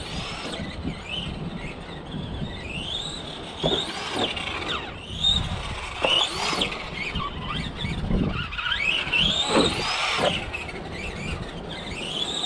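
The electric motor of an Arrma Typhon Mega 1/8-scale RC car whines at high pitch at full throttle, rising and falling in sharp bursts as it revs hard, with squealing surges over a steady buzzing background.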